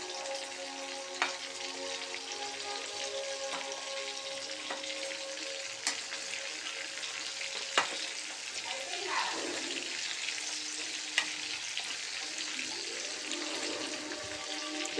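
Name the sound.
chicken with chicken masala frying in hot oil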